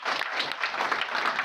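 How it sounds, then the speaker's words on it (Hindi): Brisk applause from a crowd at a neighbourhood election campaign meeting, welcoming the candidate with continuous close clapping that stays even and lively throughout. "मेरे एक बार सभी से निवेदन है, ताली बजाकर उनका स्वागत करें"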